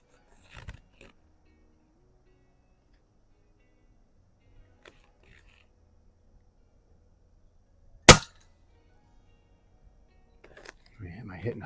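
A Pinty bullpup .22 caliber PCP air rifle fired while plinking at a range, a single sharp crack standing alone amid near silence, with faint handling noises and brief talk at the end.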